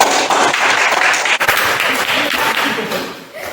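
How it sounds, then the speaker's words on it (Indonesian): A classroom of students claps for a classmate after a group presentation in a chemistry lesson, a steady close wash of many hands lasting a few seconds without a break. "Tepuk tangan dulu untuk"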